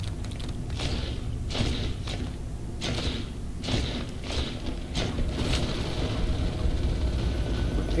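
Gunfire in the game Natural Selection 2 hits a tunnel, giving a run of heavy thumping shots at an irregular rhythm over a rumbling background.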